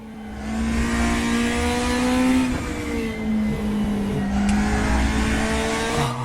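A classic touring car engine in the RaceRoom racing game, a loud close droning note that rises under acceleration, dips through gear changes and climbs again, with no talk.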